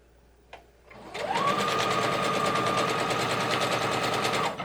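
After a faint click, a sewing machine starts up and stitches quilt block pieces in a fast, steady whirring run lasting several seconds, close and loud, then stops.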